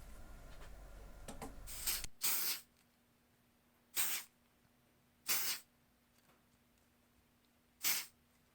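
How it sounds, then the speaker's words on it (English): Spray-on release agent misted onto a jewelry mold: a few faint handling sounds, then five short aerosol bursts, each about half a second, spaced a second or two apart, close and fairly quiet. "I also use a spray-on release agent instead of the cornstarch."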